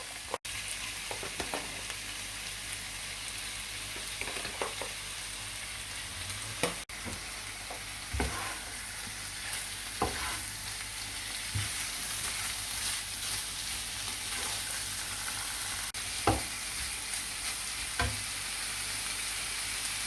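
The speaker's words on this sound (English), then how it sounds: "Then add the mutton. I have taken 500 grams of mutton." 500 grams of mutton frying and being stirred in a pan for a curry, a steady close sizzle running throughout with occasional scraping knocks of the spoon against the pan.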